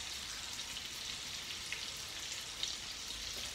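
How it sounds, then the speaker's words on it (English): Steady crackling sizzle of bacon frying in a pan, a constant bright hiss with small pops, fairly quiet and close, no voices. "I don't know why I'm expecting it to sizzle. It's not sizzling."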